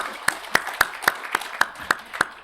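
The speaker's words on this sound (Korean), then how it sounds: "하나님께 영광의 박수를 올려드리겠습니다." A church congregation claps together in a tight, regular rhythm, about eight sharp beats in quick succession, moderately close in a quiet room.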